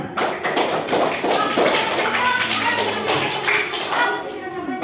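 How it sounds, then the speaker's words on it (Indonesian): Clapping in a learning session, a group of hands beating in loose rhythm, fairly close and moderately loud, with voices talking partway through. "Tepuk tangan"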